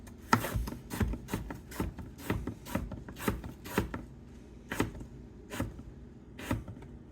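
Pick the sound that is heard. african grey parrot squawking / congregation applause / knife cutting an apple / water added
knife cutting an apple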